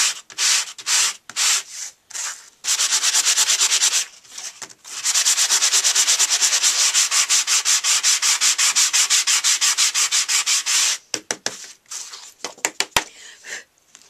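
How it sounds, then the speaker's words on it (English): Sandpaper rasps rhythmically against a green-backed surface in fast back-and-forth strokes, with short pauses between bursts of scrubbing, close and fairly loud. "You simply take your sanding paper."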